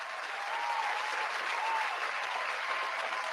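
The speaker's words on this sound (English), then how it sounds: "Round of applause to you guys." A steady round of applause runs throughout on a sports talk stream, a smooth, even wash of clapping at moderate level with no voices over it.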